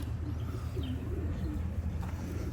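Racing pigeons in a loft give soft, low coos and a few faint chirps, quiet against a steady background hum.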